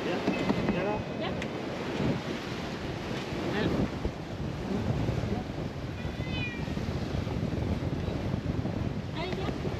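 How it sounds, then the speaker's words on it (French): A sailboat at sea off Saint Lucia heads into oncoming waves, with a steady rush of wind and water against the hull throughout and a cat meowing now and then close by. "On a les vagues de face."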